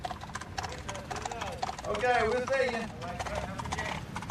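Horse hooves clip-clop steadily at a prison farm in Louisiana, a close, rhythmic trot with a horse in a warm coat, while someone speaks briefly over the hoofbeats.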